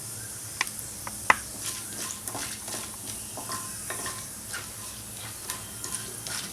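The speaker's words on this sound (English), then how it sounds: "stir it a little. Till the mustard seeds start spluttering." Mustard seeds splutter in hot oil while being stirred, giving a steady sizzle broken by scattered sharp pops and crackles, with no talking.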